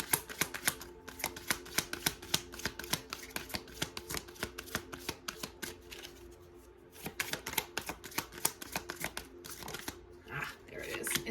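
Tarot cards riffle and slap together in a long run of quick, close, crisp shuffling clicks, slowing near the end as single cards are drawn and laid down, with no talking.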